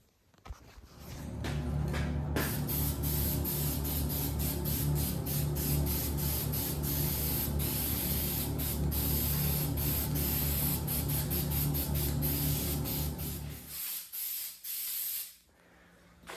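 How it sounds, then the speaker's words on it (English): Plastic dip sprayed from an aerosol can onto car wheel trim rings, a steady close hiss running unbroken for about twelve seconds before cutting off into short bursts. "So we're gonna plastic dip this, then we're gonna shoot our color to match the wheels on the front of the car."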